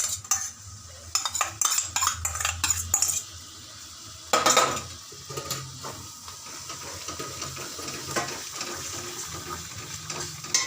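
Spice paste and two spoonfuls of sour yogurt are stirred and fried in a pan, a ladle clinking and scraping against the metal in irregular bursts over a soft sizzle.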